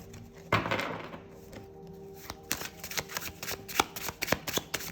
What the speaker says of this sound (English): Overhand shuffling seems to be easier.